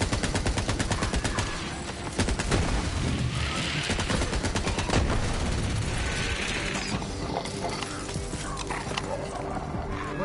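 Rapid, dense bursts of automatic gunfire in a PS4 video game, loud and continuous, with overlapping shots and chaotic game noise throughout.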